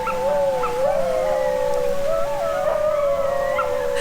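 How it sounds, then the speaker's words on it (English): Several dogs near a jungle campsite by a waterfall in Mexico howl loudly and continuously, with wavering, overlapping pitches and occasional yips, close and sustained without talk. "Those dogs are going crazy."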